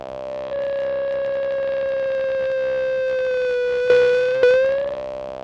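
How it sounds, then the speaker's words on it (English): Chaotic feedback from an Arturia MS20V software synthesizer with its output routed back into the signal input: a loud, steady, siren-like sustained tone that swells in two sharp surges near the end, alone without talk. "run it into the signal input to create really kind of chaotic feedback"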